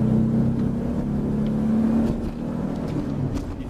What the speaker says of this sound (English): So I'll just try and do a little bit of acceleration. So that's full throttle.